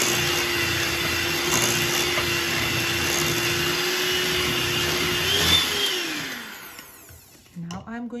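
Electric hand mixer beating chocolate chip cookie dough with a freshly added egg, a steady whirring drone held at close range for several seconds, then slowing and cutting out near the end.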